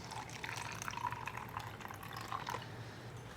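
Water pours steadily into a plastic cup with a soft, bubbling trickle, close by and fairly quiet, with no voices.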